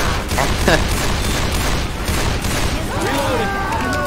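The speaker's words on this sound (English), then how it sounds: "Why was there an explosion?" Gunfire and an explosion in the video game Left 4 Dead 2, loud dense bursts of shots and booming blasts in a chaotic mix, with voices talking over the noise.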